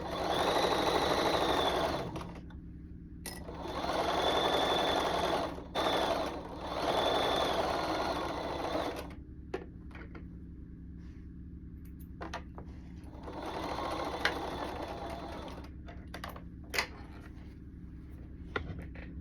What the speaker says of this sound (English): My sewing machine likes it.